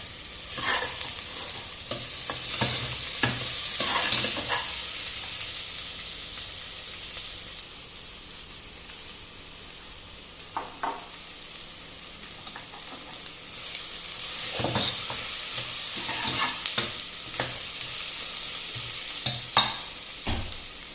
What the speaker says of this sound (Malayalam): അപ്പോൾ ഇനിയിപ്പോൾ ഇഞ്ചിയും പച്ചമുളകും ഇഞ്ചിയും വെളുത്തുള്ളി ചതച്ചതിടാം.